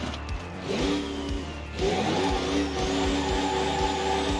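Off-road supercar engine in the BeamNG driving game, steady mid-pitched drone with a clear rev rise partway through, as if backing up under load, loud and continuous with no talk.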